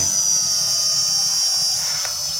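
An MJX Bugs 104G GPS drone spins its propellers up for auto take-off, giving a steady, loud, close high-pitched whine that holds evenly throughout.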